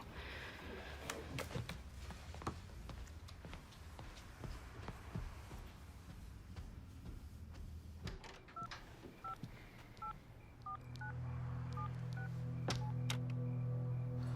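Telephone keypad dialing tones, a quick series of short beeps from a phone keypad, followed by a steady louder tone, heard close over faint rustling and footsteps without talk.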